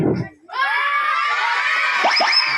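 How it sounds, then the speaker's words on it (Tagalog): Children in a puppet show audience shout loudly together in a sustained, high-pitched collective yell. It rises after a brief adult voice and holds steady at full volume, with a few sharper shrieks near the end. "Ang lakas na ng sigaw nila."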